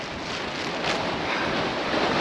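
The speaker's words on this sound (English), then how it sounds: "it's windy up here too" Strong wind roars and buffets against the microphone on a wet hilltop, a loud steady rush of noise with gusty swells and no voices.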